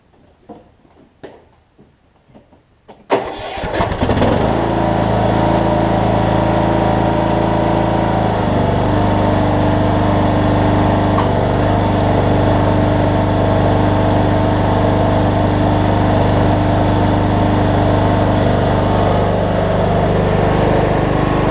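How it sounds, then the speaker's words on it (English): A riding mower with a Kohler Courage single-cylinder engine after a carburetor kit install gives a few clicks and cranks, then fires up and settles into a loud, steady running drone close by. "Let me see if it starts, and I'll drive it onto the trailer"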